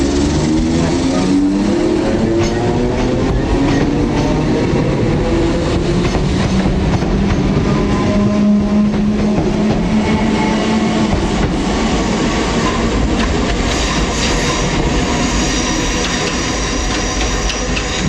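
A First ScotRail train runs along the rails in a loud, steady, close rumble with rhythmic clickety-clack and shifting wheel and motor tones throughout, with no voices.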